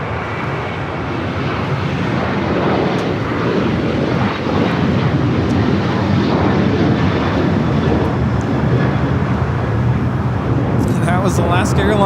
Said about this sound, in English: Was Alaska Airlines 1374 taking off to Loretto on the 737-900ER.